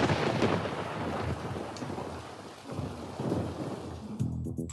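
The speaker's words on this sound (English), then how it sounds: "Oh, no. It is raining." Steady heavy rain with a deep rolling rumble of thunder underneath, loud and continuous throughout with no voices.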